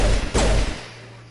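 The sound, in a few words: pistol gunfire in the video game Mass Effect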